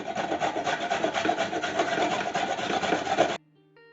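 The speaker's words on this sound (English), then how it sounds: "We've got our carrots peeled. Right, so now we're just going to grate these." Raw peeled carrots being grated by hand, a steady, close rasping scrape with a quick back-and-forth rhythm that runs for about three seconds and then stops abruptly.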